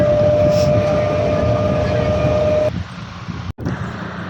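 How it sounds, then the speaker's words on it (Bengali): A train standing at a station platform, its steady rumble and a sustained tonal hum filling the first part before the sound drops and shifts, with background station noise throughout. "দেখো ট্রেন ঢুকে গেছে, এটা আমাদের ট্রেন"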